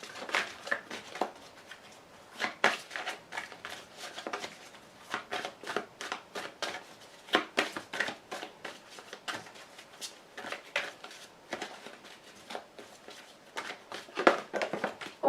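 Playing cards handled, shuffled and drawn for a fortune-telling card reading, heard as a steady run of crisp, papery riffles and flicks, close and fairly quiet, with no talking.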